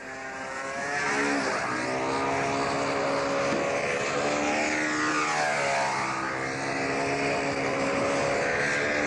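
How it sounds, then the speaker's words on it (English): A control-line model plane engine at the 1994 world championships drones with a muffled exhaust, its pitch rising and falling as it passes overhead at moderate distance. "A muffled exhaust note makes a lovely noise at all times."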